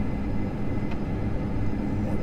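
Dash 8 Q400 turboprop engines at high power in the FSX flight simulator, a loud, steady droning roar with a constant hum that fills the whole stretch without a pause.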